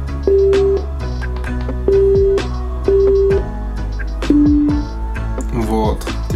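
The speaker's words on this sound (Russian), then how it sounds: "Теперь произошел какой-то сигнал, что они соединились." A Bluetooth speaker, a Tronsmart Groove or JBL Flip 4, plays its pairing signal: a sequence of four loud, close electronic tones, each about half a second long, ending with a slightly lower final note.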